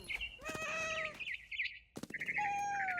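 Cat meowing in the WROEF video game, two drawn-out rising and falling meows, close and loud, with chirpy bird calls around them.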